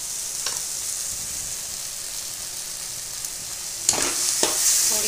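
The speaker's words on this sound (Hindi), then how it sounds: "थोड़ी देर और पकाएंगे तो देखो मसाला मेरा पक गया" Salted masala cooks in a pan with a steady, close sizzle, broken near the end by a couple of sharp scraping stirs; no one talks.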